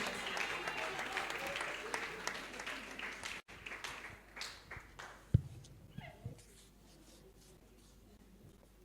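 A church congregation claps together, a dense burst of applause that fills the first few seconds and then thins into scattered claps and thumps as the room quiets.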